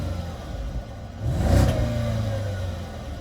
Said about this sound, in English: Now watch what happens when I rev the vehicle.